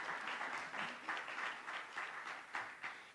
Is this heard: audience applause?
yes